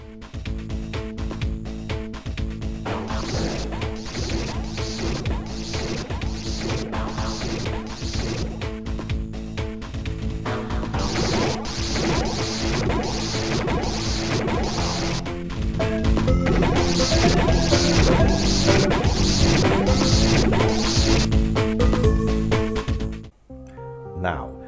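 An Amiga audio mixer plays several game sound samples at once on one hardware channel: repeated crashing and whacking hits over a layered, music-like mix, loud and continuous, ending abruptly.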